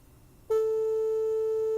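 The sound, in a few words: 440 hertz tone, the A note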